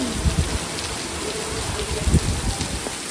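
Heavy rain pours outdoors in a steady loud hiss with scattered heavier drips and splashes, continuous and close throughout.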